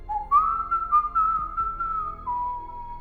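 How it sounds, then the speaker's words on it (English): A stranger whistles an eerie, wavering tune, one sustained melodic line held close and clear for about three seconds, with faint low background rumble beneath. "Jack hears the stranger whistling an eerie tune"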